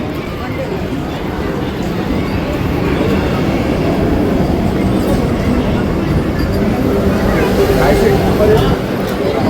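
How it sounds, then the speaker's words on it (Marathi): Vande Bharat Express pulling into a station platform, a steady loud rumble of the train and station noise throughout, with people talking over it. "आली आली आली आली आली वंदे भारत एक्सप्रेस"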